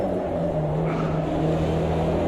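Supercar engine in a racing video game, a steady close droning hum held at a constant pitch.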